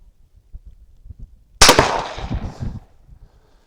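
A single sharp gunshot from a .17 HMR Ruger Precision Rifle fired outdoors at a ground squirrel about 120 yards away, loud and close, with a trailing echo that fades over about a second and a half.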